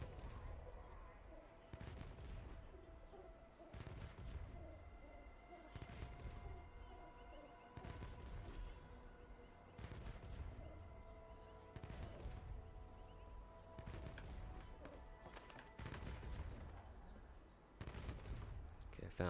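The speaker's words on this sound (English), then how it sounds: "Oh, it's just shooting the zombies." Gunfire from shooting at zombies in the Arknights Endfield video game comes in repeated bursts, rapid volleys separated by short pauses, somewhat distant and rumbling over a steady game background.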